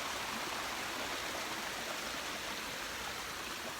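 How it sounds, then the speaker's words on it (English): Snowmelt from Silton Forest rushes downhill in a small stream, a steady, dense babbling wash of water that stays constant and fairly close throughout, with no voices. "This is the snow melting up in Silton Forest, and it's heading naturally downhill as water does."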